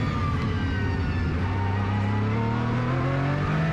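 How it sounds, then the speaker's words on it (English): Aston Martin GT race car braking hard into a hairpin at Okayama and downshifting from fifth to first, the engine droning loudly from close by in-car with pitch steadily rising and falling as gears change. "The hardest brake hairpin at this hairpin, we will shift down from fifth to first."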